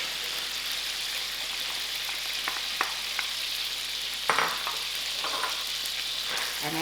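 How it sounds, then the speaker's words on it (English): Onions frying in olive oil and seafood juices in a paella pan give a steady, moderate sizzle, with a few brief clicks and scrapes from stirring scattered through it. "And allow this to fry."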